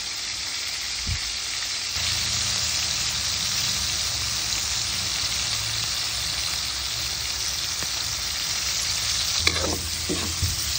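Fish frying in a hot pan for sweet and sour fried fish, a steady close sizzle and crackle of oil throughout, with occasional soft clinks of a utensil.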